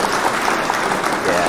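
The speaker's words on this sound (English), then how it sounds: "Yeah, clap for yourself." A small group clapping steadily during a live news stream, a dense even patter that stays at a constant level with no pauses.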